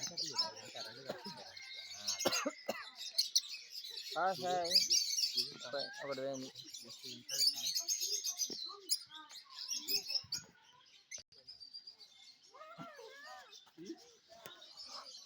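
A parrot in a zoo in Russia chirps and squawks in short bursts, close by, while a person talks to it in between.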